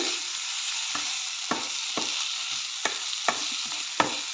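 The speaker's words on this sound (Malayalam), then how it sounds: "ഇളക്കി കൊടുക്കുക ഇത് ഇതിലേക്ക് ശരിക്കും മിക്സ് ആവുന്ന രീതിയിൽ ഇളക്കി കൊടുക്കുക" Pepper chicken curry frying in a pan hisses softly and steadily while a spoon stirs it, scraping and knocking about a dozen times in an uneven rhythm, close by with no talk.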